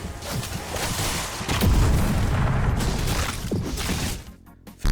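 A pipe bomb blast rips through in Examination, a loud, dense explosion with crackling debris that rolls on for several seconds before cutting away.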